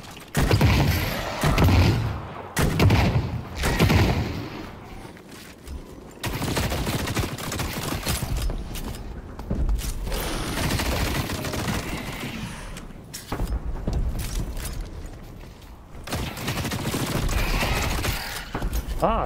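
Video game gunfire from The Cycle Frontier arrives in repeated bursts of rapid shots separated by short pauses, mixed with mechanical clicks and reload-like clatter.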